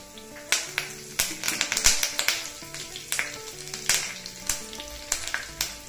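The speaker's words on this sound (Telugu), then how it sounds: "వీటన్నిటిని దోరగా వేగనిద్దాం." Dried red chillies and curry leaves frying in hot oil for tempering, with sharp irregular crackles and pops over a steady sizzle, close and lively throughout.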